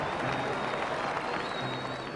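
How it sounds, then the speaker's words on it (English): Applause and crowd excitement greeting a political address, a steady, dense wash of clapping throughout, moderately loud, with no speech over it. "The agent reported that Garvey's address was met with great applause and much excitement."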